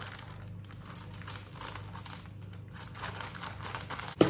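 Child's scissors cut through parchment paper in a home kitchen while making jam bars, giving quiet, close crinkling and snipping rustles with one sharper snip near the end.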